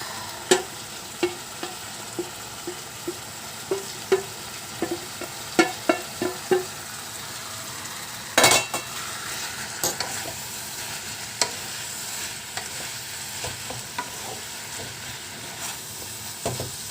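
Fried sprouted chickpeas are tipped into a pan of hot curry, setting off a steady sizzle punctuated by a string of sharp spoon-against-pan clacks as the mixture is stirred, with one loud clatter midway; no one speaks.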